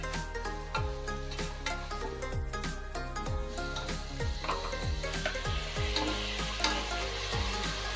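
Crushed green chili and curry leaves sautéing in hot oil for a pressure-cooker chicken biryani, a continuous close sizzle and crackle with occasional stirring scrapes and clinks of the pan.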